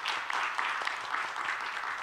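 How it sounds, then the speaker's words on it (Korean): Conference audience welcoming a presenter with applause, a short, steady burst of many hands clapping at an even level with no speech over it. "큰 박수로 맞아주시기 바랍니다."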